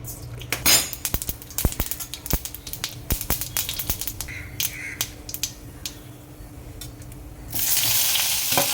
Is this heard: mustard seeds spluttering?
yes